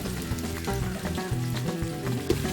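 Sliced onions deep frying in hot oil for chicken biryani, a steady dense sizzle with crackling bubbles running throughout, close and fairly loud with no talking.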